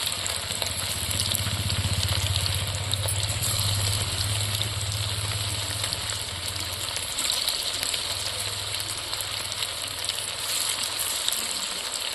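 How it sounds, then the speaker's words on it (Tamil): Marinated anchovies fry in hot oil, giving a steady, close, continuous sizzle and bubbling hiss with no talking. "எண்ணெய் காஞ்சிட்டுங்க, மீனை போட்டுக்கலாம் எண்ணெயில்."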